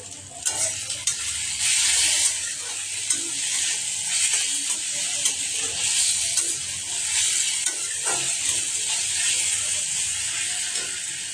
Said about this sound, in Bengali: তেলটা দিয়ে দিলাম মশলাটাতে।